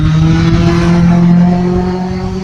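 A motorcycle passing by outdoors, its loud engine drone swelling near and steady then easing slightly as it moves on, with no talk over it.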